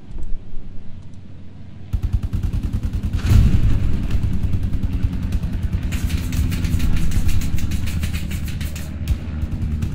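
A sniper rifle fires in the World War II shooter Hell Let Loose on Omaha Beach, one loud close blast standing out from dense, continuous battlefield gunfire and rumbling explosions around it.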